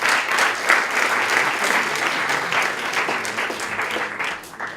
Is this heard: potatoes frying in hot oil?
no